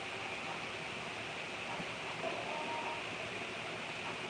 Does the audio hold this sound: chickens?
no